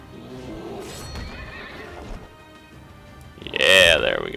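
A horse enemy in the video game Child of Light gives a loud, shrill whinny near the end, after a stretch of game sounds with talk underneath.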